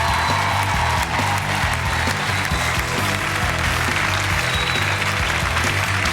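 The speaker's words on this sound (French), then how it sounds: "Je vous demande d'applaudir comme il se doit" A television studio audience applauds a guest's entrance, loud, dense clapping that holds evenly throughout, with faint music or crowd murmur underneath.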